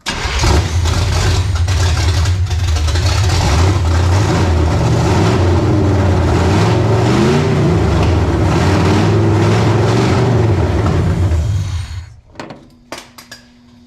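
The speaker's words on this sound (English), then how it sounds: "We're gonna do another test run to see how Rick likes the sound of open headers." A 1972 Chevy Nova's engine roars through open long tube headers, a loud rough rumbling run with revving swells for about twelve seconds before it cuts off abruptly, leaving faint clicks.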